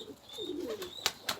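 Pigeons coo softly and nearby in a short burst, low rolling calls with a couple of sharper sounds near the end.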